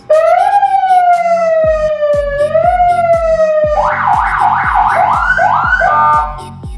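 A loud electronic police siren on a modified Honda Civic FC5, sliding wails that shift into a fast yelping pattern, steady and close, ending abruptly.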